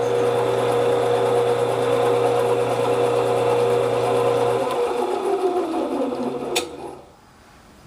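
Metal lathe cutting a thread with the half nut engaged, a steady whirring machine drone that slows and winds down near the end, close and fairly loud.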